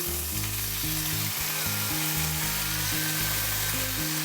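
Chopped onions and potatoes fry in a pan for Maharashtrian kanda batata poha, giving a steady, loud sizzle. Repeated low clanks and scrapes from stirring cut through the frying.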